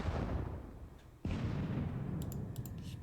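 Artillery guns open fire in a Gettysburg Civil War wargame: one abrupt boom lands about a second in over a dense, rumbling battle bed, followed by faint clicks.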